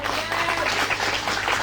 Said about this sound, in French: Est-ce que vous l'applaudissez, le Seigneur?